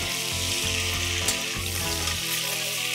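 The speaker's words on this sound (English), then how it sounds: "I'm going to saute this for 5 minutes on a high flame" Half a kilo of mutton sautéing on a high flame, a loud, dense, continuous sizzle with steady hissing and faint stirring scrapes throughout.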